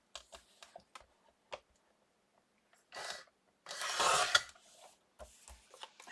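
Paper being cut for Christmas ephemera crafting, with scattered light taps and handling noises followed by a couple of longer, louder rasping cutting strokes close by.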